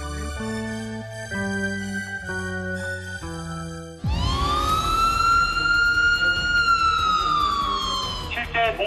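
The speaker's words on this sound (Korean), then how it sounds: "온 국민을 불안에 떨게 한 공습 경계 경보." Layered electronic tones are followed by a loud, sustained air raid warning siren in South Korea that rises and holds, droning on at length.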